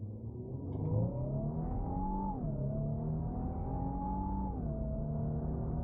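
A 2025 Infiniti QX80 with a 450-horsepower engine accelerates hard from inside the cabin, a steady rising engine drone with two upshifts, each dropping the pitch before it climbs again, no talk.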